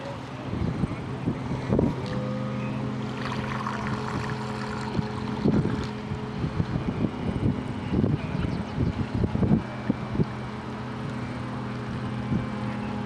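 A New Bright Fountain RC boat with hobby-grade modifications cruises on water, its motor droning steadily with low tonal hum, wind buffeting the microphone and water splashes and thumps scattered throughout.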